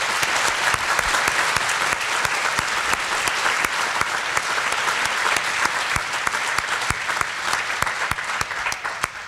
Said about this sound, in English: Can we give you all and all the veterans in the audience a big round of applause?